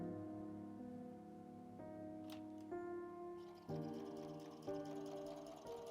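A sewing machine stitches a square piece of fabric for a basket-style bag, a steady mechanical whir with tonal hum that shifts pitch in a few steps as the stitching speed changes, close and moderately loud.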